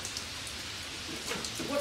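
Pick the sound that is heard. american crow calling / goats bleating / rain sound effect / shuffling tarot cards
rain sound effect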